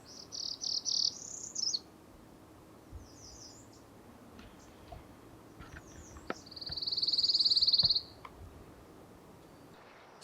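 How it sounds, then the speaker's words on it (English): Northern parula songs ring out among other warbler calls in a quiet wooded setting: a short buzzy trill early, then a longer rising buzzy trill near the end, moderately near with soft background birds. "Oh, northern parula."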